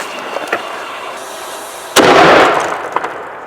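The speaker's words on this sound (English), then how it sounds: "we're shooting a 115 grain out of the 3D printed cannon." A single loud blast from a 3D-printed black powder cannon, loaded with 50 grains of FFFg powder and a 115-grain projectile, booms out, its broad roar fading over about a second, with faint clicks and rustling before and after.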